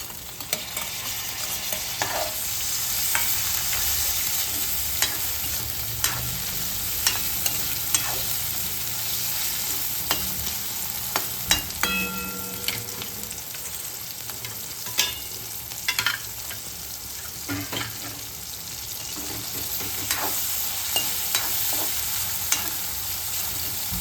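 Onions stir-fry in a pan for vegetable hakka noodles, with a steady sizzle and frequent scraping stirs and clinks spread across the whole stretch.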